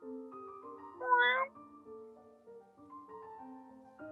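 A single short cat meow rises briefly over a steady background of layered tonal music during a tabletop role-playing game, with a faint voice underneath.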